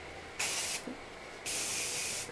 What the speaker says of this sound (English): I just lift up my hair and just spray it in.